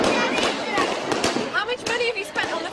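Fireworks and firecrackers crackle and pop repeatedly at a street party celebration in Delhi, India, dense bursts running throughout under loud crowd chatter and nearby voices.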